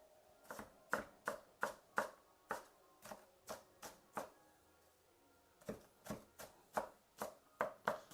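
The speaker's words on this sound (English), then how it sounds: "Just wait till I'm done cutting the onions." Knife coarse-chopping onions on a cutting board, close and crisp, a steady run of sharp evenly spaced chops with a short pause midway before the rhythm resumes.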